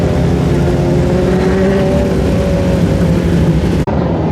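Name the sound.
speedway race car engine after a push start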